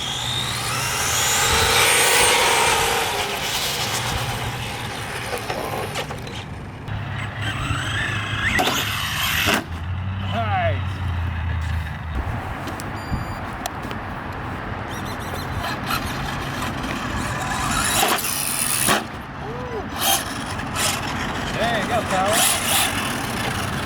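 An FMS F100 3S brushed RC car running rough, its electric motor whining and buzzing unevenly at varying distance, with people talking over it for much of the time.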